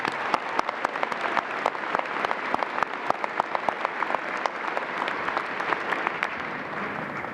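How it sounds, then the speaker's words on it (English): A graduation audience gives a round of applause to the musicians and conductor at a college commencement, many distinct claps rattling steadily across a large hall, moderately loud and without talk. "Let's give the musicians and the conductor a round of applause"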